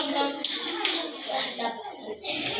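Children in a catechism class clap their hands in a quick burst amid loud chatter and a teacher's voice, the claps brief and layered under the talk.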